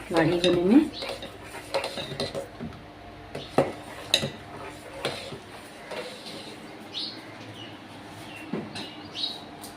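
A spoon scrapes and clinks against a metal pot while kheer, a thick rice pudding, cooks down, giving irregular knocks and stirring scrapes at close range, with faint bird chirps in the background.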